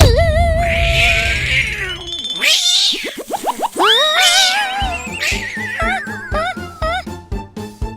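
A cat meows in a long, drawn-out wail, loud and close, followed by bouncy springy toy-like sounds and a horse-like whinny in a playful children's cartoon scene.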